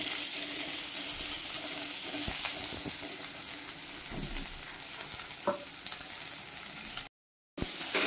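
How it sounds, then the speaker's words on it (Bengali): Pointed gourd and potato pieces fry lightly in oil, giving a steady close sizzle with stirring scrapes and clinks throughout, then a brief silent gap near the end. "দিলাম পটল, আলু পটলটা হালকা ভেজে নেব।"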